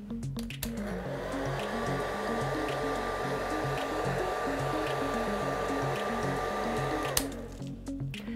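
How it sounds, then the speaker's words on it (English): A hair dryer blows in a steady, loud whoosh with a constant motor whine for several seconds, then cuts off near the end. "you can use your hair dryer or your air dry, whichever works best for you."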